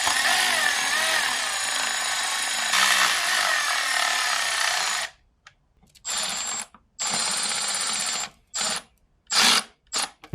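A power tool whirs loudly and continuously while bolts are tightened on a 2024 Beta 390 RR-S dirt bike, then drops to a series of short bursts separated by silences.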